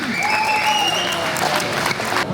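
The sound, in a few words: audience applause after a wrestling bout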